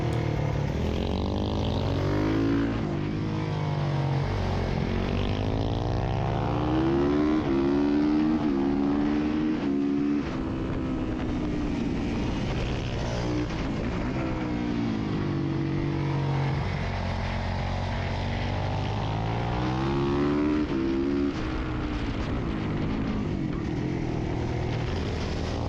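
SuperMoto motorcycles lap the Pineview Run track, one engine buzzing loud and steady up close, its pitch climbing and dropping repeatedly through gear changes and corners across the whole stretch.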